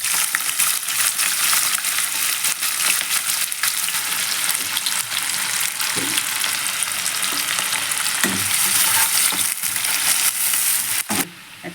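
Onion fries in oil with sugar and bay leaf for a chicken curry, giving a loud, continuous close sizzle with occasional scraping bumps from stirring.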